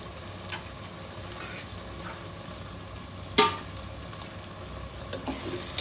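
Prawn pulao being stirred in a pan, a continuous low sizzle with a sharp clink of the spoon against the pan near the middle and a few lighter taps toward the end.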